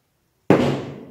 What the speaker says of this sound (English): I don't know why my neighbors are having fireworks on a rainy day